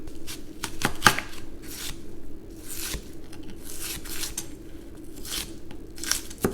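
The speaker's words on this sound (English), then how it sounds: "Dice 1/2 of an onion." A knife dices half an onion on a cutting board, producing a quick, steady run of close, crisp chopping taps for pizza sauce prep.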